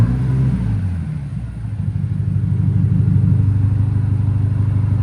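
A 2023 BMW XM with a 4.4L twin-turbo V8, X-pipe and Borla ATAK exhaust idles with a deep, steady, close-up rumble that holds even throughout.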